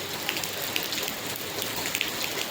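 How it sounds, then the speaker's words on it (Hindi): Steady rain falls during a snowy day, an even close hiss with scattered small droplet ticks throughout, no voices. "अरे पीछे हो जा, बारिश में मत भीग बेटा।"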